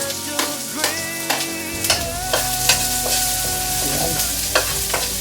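Garlic and ginger frying in a pan for a ginataang langka dish, crisp sizzling under repeated sharp scrapes and knocks of a spatula against the metal, close and fairly loud with no talking.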